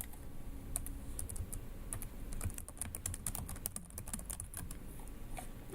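Rapid clicking of a computer keyboard being typed on, steady and fairly quiet, with irregular clusters of keystrokes and no talk.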